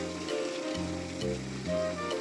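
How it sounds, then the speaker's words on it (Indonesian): A food chopper runs steadily, a buzzing motor hum that shifts pitch in a few steps, with a hissy, gritty wash over it and no talking. "Ini aku chopper sekitar 1 menitan aja ya teman-teman"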